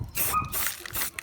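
Short hissing bursts of an aerosol spray on a Mercedes-Benz W124 under restoration, two or three quick squirts with brief pauses between, fairly quiet and close.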